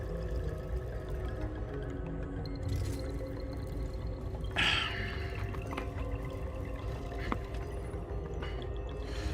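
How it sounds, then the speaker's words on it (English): Water drips now and then in Nine Sols, a few faint, sparse plinks over a steady wash of ambient game noise, with no voices. "I hear water."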